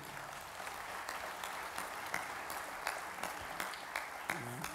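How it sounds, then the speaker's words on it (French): Applause at the opening plenary session of the FNCCR 2024 congress, with an audience clapping to thank the organisers: a steady, dense patter of many hands, fairly faint and distant, lasting throughout. "On peut les applaudir d'ailleurs"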